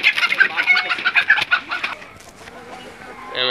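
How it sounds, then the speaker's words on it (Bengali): Hens and roosters on a poultry farm in Narsingdi raising foreign breeds cluck loudly and continuously in a busy, close chorus, with no talking, before the noise drops to a quieter murmur near the end. "আপনারা যদি কারো এই মোরগ মুরগিগুলো পছন্দ হয় বা কিনতে চান, জলিল ভাইয়ের নাম্বারে যোগাযোগ করতে পারেন।"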